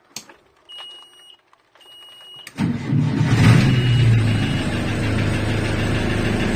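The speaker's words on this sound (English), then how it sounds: "That diesel engine will scare the life out of anybody." After a few faint beeps and clicks, a boat's diesel engine cranks and rumbles to life loudly, then settles into a steady, close throbbing idle.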